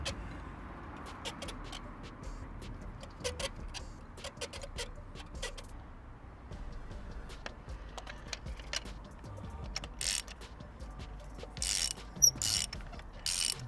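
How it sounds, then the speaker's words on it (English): A hand ratchet tightens a bolt on a Hyundai i30N during servicing, with quiet intermittent clicking strokes and a few sharper clacks near the end in a calm workshop. "So we're just going to be tightening it up with a ratchet now that we've got it hand tight"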